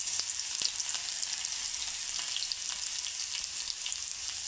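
Crushed garlic cloves sizzle in hot oil, a dense, even hiss with scattered small pops and crackles throughout, close and moderately quiet, with no talking.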